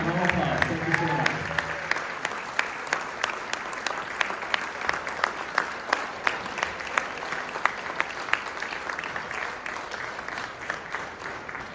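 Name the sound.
round of applause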